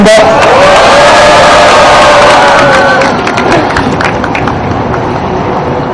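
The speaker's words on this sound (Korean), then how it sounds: "힘찬 박수로 모셨습니다" A crowd at an outdoor peace rally claps and cheers loudly, with whoops and shouts over dense applause at the start that settles into steadier clapping and softer crowd noise.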